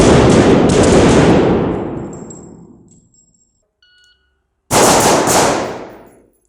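Two loud, close bursts of rapid gunfire from a close-quarters battle shooting drill, separated by a gap of near silence. The first burst fades out over a few seconds, and the second comes sharply after the pause.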